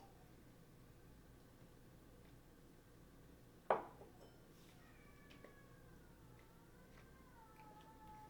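A house cat meows faintly a few times in a quiet room, with a sharp clatter partway through and low background hiss.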